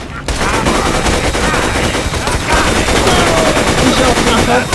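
Dense automatic gunfire from the video game Borderlands 2, a loud continuous barrage of rapid shots filling the whole stretch with no pause.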